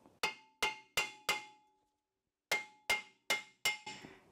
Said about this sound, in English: I'm just going to take the actual metal part and hit it.